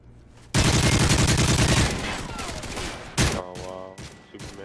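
Sustained burst of video game gunfire in a competitive team shooter, loud and dense for over a second, then trailing off into scattered shots and effects, with brief overlapping team chatter.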